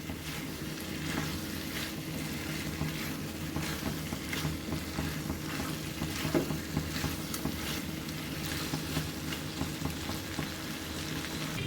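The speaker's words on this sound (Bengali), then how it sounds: "ভালো করে মশলার সাথে এঁচোড় আলুটা কষিয়ে নেব।" Green jackfruit and potato being sautéed with prawn spice masala in a pan give a steady, close sizzle, with regular scraping stirs throughout and no talk.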